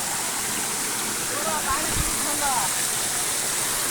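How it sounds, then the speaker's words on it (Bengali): Steady, close roar of a hillside waterfall in Sajek Valley fills the whole clip, with faint voices briefly audible beneath the rush. "আমরা ঝর্ণাতে চলে আসছি দেখেন"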